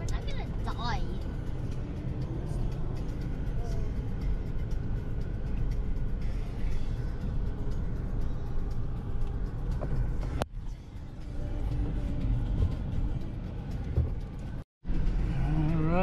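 A vehicle climbs and crawls slowly along a hilly dirt road on a ranch, its steady engine rumble and road noise filling the cabin, with a brief sharp knock and a short dropout near the end, while people talk over it.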